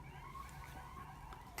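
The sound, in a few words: sirens outside on a city street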